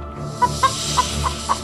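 Chickens in a coop clucking, five short sharp clucks in quick succession over a continuous hiss and low rumble.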